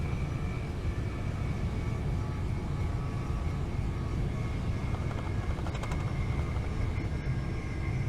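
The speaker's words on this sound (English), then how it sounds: "see the planes flying into to Gatwick there" Aircraft engine drone of planes flying into Gatwick in Train Sim World 3, a steady low roar holding throughout under a continuous rumble, with no talk.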